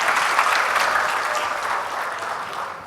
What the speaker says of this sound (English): Give applause to Master of Ceremony.